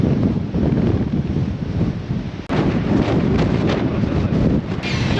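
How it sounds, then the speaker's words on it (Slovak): Strong wind blowing outdoors buffets the microphone in a steady, loud, roaring rush that barely lets up, with one brief dip partway through. "Fúka!"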